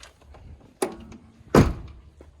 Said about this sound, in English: And I'll go ahead and pop the trunk and the fuel.